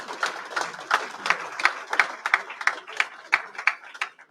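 Clapping at a Recovery Month celebration event comes as a steady, evenly spaced series of fairly faint claps, more like rhythmic group clapping than a burst of ovation.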